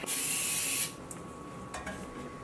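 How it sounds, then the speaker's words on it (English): A short burst of canola oil aerosol cooking spray onto a pan hisses for under a second, followed by quiet kitchen room tone with a faint clink. "we just use regular canola oil cooking spray"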